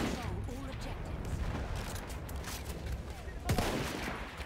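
Battlefield 1 combat gunfire, a dense spread of shots and bursts with one sharper crack near the end, heard under someone talking.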